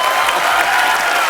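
A studio audience on a comedy talk show applauds, a dense, loud wash of clapping that holds evenly throughout with a faint murmur of voices mixed in.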